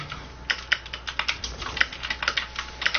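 Keys clacking steadily on a new computer keyboard, close and clear, a quick irregular run of keystrokes with no talking.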